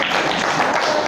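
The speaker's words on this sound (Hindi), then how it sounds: "अपने खातिर ताली बजाओ" Audience clapping in a Diwali class session, a steady dense wash of many hands that holds evenly throughout the short stretch, with no talking.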